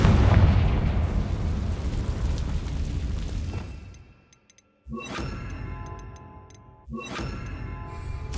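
Blasting-spell explosions in the Hogwarts Legacy video game land as heavy booms. A rumbling blast fades out into brief silence, then two sharp bursts follow, each with bright ringing debris and a decaying tail.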